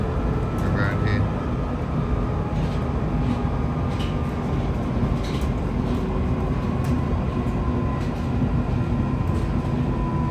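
A London Underground Northern line tube train runs through a residential stretch toward High Barnet, giving a loud, continuous rumble and rattle of wheels on track heard from inside the carriage.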